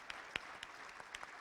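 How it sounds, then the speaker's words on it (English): A candidate forum audience gives faint, scattered applause for the Lake County Sheriff candidates. A handful of sparse, distant claps make up the brief moment. "I want to give a round of applause to all of our candidates."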